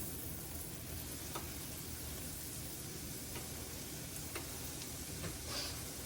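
Garlic sizzles quietly in a pan with a steady low frying hiss, and a few faint spatula taps sound as it is stirred.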